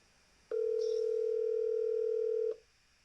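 A single steady telephone tone sounds for about two seconds, loud and clean, then cuts off, over quiet room noise.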